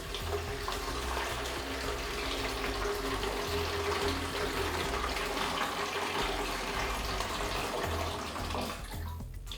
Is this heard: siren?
no